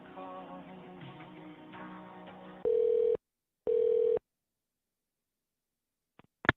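A call to a county sheriff's office is being transferred: a muffled hold-like background gives way to two steady electronic beeps of equal length, then silence and a couple of faint clicks on the telephone line.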